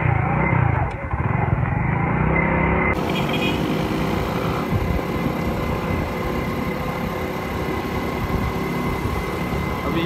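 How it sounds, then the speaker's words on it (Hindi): A motorcycle fresh from servicing rides through a market area, giving a steady engine drone with road and wind noise that stays constant and fairly loud throughout. "मोटरसाइकिल भी सर्विस हो गया, अभी घर की तरफ जाने लगा हूँ, इधर से निकलने लगा हूँ।"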